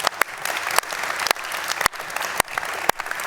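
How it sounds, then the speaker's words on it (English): Applause from an audience at a panel discussion on shaping a strong Europe, a brief burst of clapping with a few sharp, louder claps standing out. "Yeah, applause."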